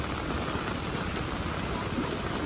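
Heavy monsoon rain pours steadily and evenly near the Gira waterfall at Saputara in the Dang hills, a dense, unbroken hiss with no voices.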